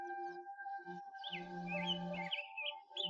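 Birds chirp and warble in short, twisting phrases at a moderate distance in a Tatarstan village, over a quiet background with a faint steady hum.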